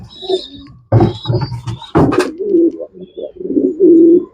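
An old racing pigeon of a kept pair coos in repeated low, throaty phrases close by, with soft bursts of cooing and short pauses between them, and no talk.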